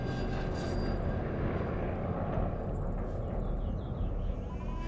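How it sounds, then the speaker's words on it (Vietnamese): Enemy aircraft, a formation of nine fighters with escorts, fly over an airfield in a wartime scene, giving a steady, loud, unbroken engine roar that holds for the whole stretch with no talk. "Máy bay địch vào cảnh giới của dân Nam,"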